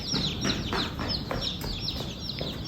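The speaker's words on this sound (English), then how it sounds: "I need to lower the heat lamp because there's too many chicks over here" Young chicks gathered under a heat lamp on a family farm raising meat birds, their clucks and peeps forming a steady, busy chorus close by with overlapping calls throughout.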